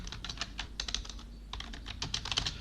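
Steady typing on a computer keyboard, a dense run of close, crisp key clicks with a brief pause midway before the tapping resumes.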